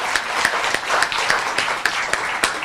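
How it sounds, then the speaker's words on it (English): A conference audience at a plenary session claps for the speakers, a short burst of scattered, fairly close claps with no voices over them. "a round of applause for our speakers"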